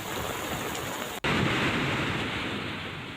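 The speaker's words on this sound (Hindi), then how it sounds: "तीर्थ नगरी हरिद्वार में भी कल से भीषण बारिश हो रही है।" Heavy rain pours down in Haridwar, a steady, dense, broadband hiss that stays loud and unbroken apart from one abrupt momentary cut, with no voices.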